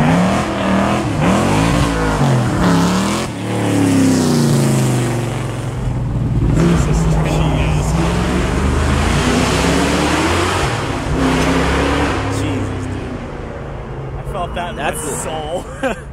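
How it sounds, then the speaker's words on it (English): An oval track race car engine roars loudly as it speeds past at the Reading Hill Climb, its pitch rising and falling, with people talking nearby. "That's an oval track car right there. He was hauling around that corner."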